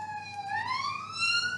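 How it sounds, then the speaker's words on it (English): A police-style siren wails outside, rising and sweeping in pitch as it passes, clear and moderately loud over a quiet background with no talking. "Listen to that siren."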